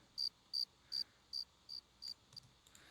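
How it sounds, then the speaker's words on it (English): A cricket chirps in a steady, evenly spaced series of short, sharp pulses in a synthesized rainforest soundscape, about six clear chirps before fading into softer, broken ones over a quiet background. "And the cricket is kind of going a little bit too much."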